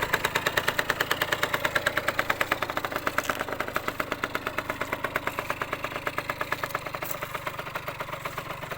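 A Yamaha TZR 50 two-stroke motorcycle engine idling, a fast steady rapid putter that stays even and close throughout with no talking.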